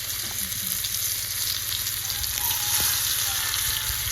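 Marinated fish pieces fry in a pan with a steady, close sizzle and crackle, a few faint clinks from handling over the continuous hiss, no one speaking.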